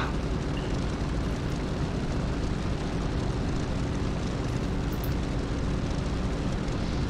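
Roaring piston engine of a Corsair WWII fighter plane in DCS World, a dense, unbroken drone filling the scene loudly and steadily with no voices.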